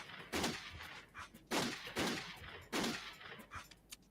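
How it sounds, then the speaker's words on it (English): Revolver shots in the video game Castlevania 64: a series of distinct sharp gunshots at irregular intervals, around five reports with brief echoes, fairly close and alone. "he fires a revolver"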